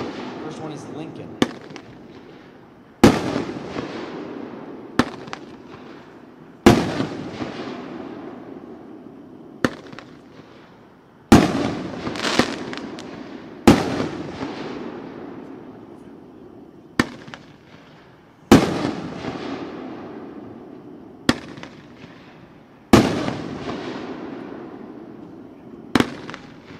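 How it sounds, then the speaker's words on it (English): Consumer fireworks from a Mount Rushmore 500-gram cake assortment, the Lincoln segment, fired at a fireworks demo expo: repeated loud booming bursts every few seconds with crackling tails and smaller pops between. "We're going to shoot some of our Mount Rushmore 500-gram assortment."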